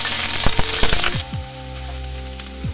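Mustard seeds hit hot oil in a pan for a Kerala-style jackfruit seed stir-fry, giving a steady bright hiss with a burst of quick crackling pops early on that thins out, close and fairly loud.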